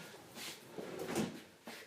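IKEA vanity drawers sliding shut, a few soft close-up rolling slides and light bumps in quick succession, quiet and without talk.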